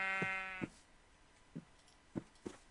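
Sheep bleating in a video game: one clear, close bleat at the start, followed by a few short, quieter thuds and clicks spaced over the following seconds.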